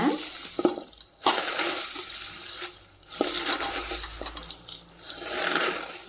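Dry ragi vermicelli being crushed and snapped inside its plastic packet, a few crinkly rustling bursts with short pauses between them, close and fairly quiet, no voices.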